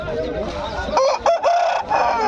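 A Sankranti fighting rooster crowing close by, one drawn-out crow with clucking around it, loud over a busy outdoor background with people talking nearby in Mydukur.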